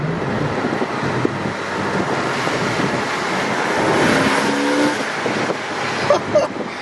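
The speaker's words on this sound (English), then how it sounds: "That intake is loud." A Porsche 986 Boxster S with its intake snorkel deleted drives with a loud, continuous intake roar that swells midway, mixed with wind buffeting, heard from inside the car.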